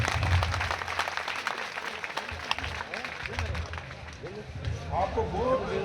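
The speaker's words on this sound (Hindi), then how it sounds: "एक बार जोरदार तालियां इनके लिए आप बजा दीजिए।" Applause from a crowd at a Kumhar mahapanchayat community gathering in Osian, with steady clapping running throughout and a voice speaking over it.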